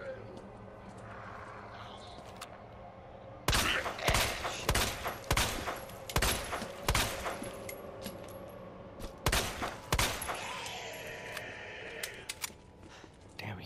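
Gunfire in the Resident Evil 2 remake video game: a string of sharp, loud shots in irregular bursts that stand out over a quieter background, followed by a fading tail.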